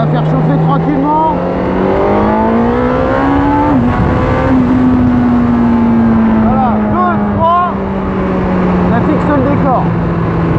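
A Honda CB1000R roadster motorcycle warms up on the road, its engine droning loudly with a steady, gently rising and falling tone through the whole stretch, while someone talks over it.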